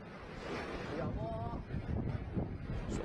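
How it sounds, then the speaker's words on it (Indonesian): Tornado wind roars through a village in Demak, captured on a resident's phone: a loud, steady rumble with buffeting across the microphone, with a voice briefly audible under it. "suara gemuruh ini terdengar dari dalam rekaman ponsel warga saat angin puting beliung menerjang Desa Loireng dan Desa Gemulak"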